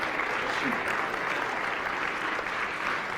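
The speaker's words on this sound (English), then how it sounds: "this applause is also for you" Audience applause at a Volt Europa live event: steady, dense clapping from a crowd, sustained evenly throughout without pause.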